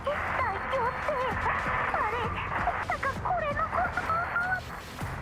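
Mikti, a character in Girls Frontline 2: Exilium, lets out a wavering howl over a communicator channel, a string of rising and falling whines and yips like a dog, continuous for several seconds over game noise.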